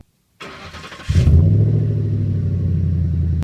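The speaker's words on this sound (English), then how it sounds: "it has an aftermarket exhaust, which sounds phenomenal, and I'll put a little clip in here" An older Ford truck with an aftermarket exhaust cranks and fires into a loud, deep rumbling rev, then settles to a heavy steady idle, close and alone.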